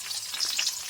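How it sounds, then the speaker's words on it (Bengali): Chopped onion and green chilli fry in a pan, a brief bright crackling sizzle heard up close and alone. "পেঁয়াজ কুচি, ভালো করে লাল করে ভেজে নেব"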